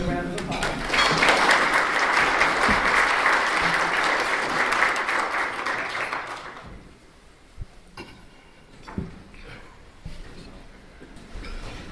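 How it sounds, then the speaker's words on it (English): An audience at a community event claps in sustained applause for about six seconds, then it fades into a quieter room with scattered knocks and a voice speaking. "Let's give these folks a round of applause."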